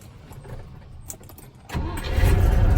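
Engine start on a 1988 Land Rover 130 Overlander with a V8: a short cranking patter, then the engine catches and settles into a loud, deep, steady idle close by.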